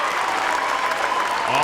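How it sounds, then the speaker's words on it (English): A BKFC bare-knuckle fight night crowd in Honolulu applauds after a middleweight main event bout: broad, continuous clapping and crowd noise filling the arena, steady and fairly loud throughout with no pause. "let's have a round of applause for one of the most exciting first-round fights in BKFC history"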